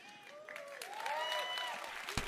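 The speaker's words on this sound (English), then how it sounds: "Claps, slow claps, but slow" Scattered clapping from an event audience during an E3 2018 livestream, a moderate continuous patter lasting a couple of seconds with some crowd murmur mixed in.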